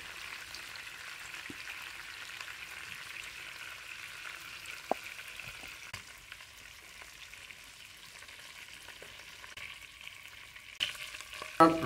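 Chicken pieces fry lightly in oil for a roast, giving a soft, steady sizzle that runs evenly throughout with a few faint clicks and a slightly louder rise at the very end.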